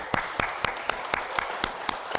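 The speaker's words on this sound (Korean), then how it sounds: "자, 여러분 자신을 위해서 그래도 하나님 앞에 영광을 돌리는 박수 한번 칩시다." A church congregation at a Wednesday evening worship service claps together in a steady, quick rhythm of sharp, evenly spaced beats, sounding as one unison pulse throughout.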